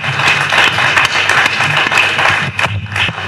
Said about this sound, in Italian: E facciamo un applauso a Gianni.